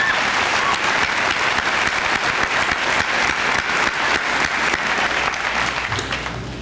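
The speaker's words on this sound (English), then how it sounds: "let's give them a nice round of applause" A crowd at a high school senior assembly applauds two students returning to their seats, loud, continuous clapping that carries on for several seconds before easing off slightly at the end.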